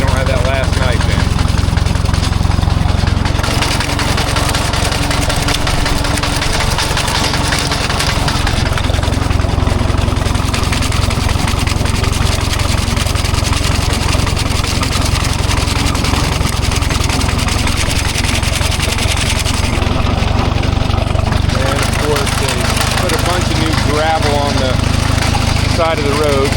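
A Minneapolis-Moline sickle bar mower running on a test run, a loud continuous engine drone with steady mechanical chatter throughout, people talking over it at times.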